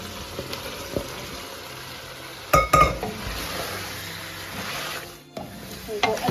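A spoon stirs cut potatoes through sizzling masala in a pan for potato egg curry, with a steady fry hiss broken by a few sharp metallic scrapes and knocks near the middle, close and fairly loud.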